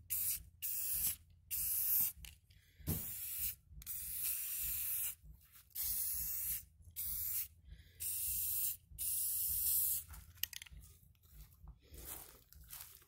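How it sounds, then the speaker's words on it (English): Repeated hissing bursts of an aerosol spray paint can, sprayed at an angle along edges, each lasting about a second with short pauses between, close up and fairly loud. "take your spray paint and spray it at an angle that way"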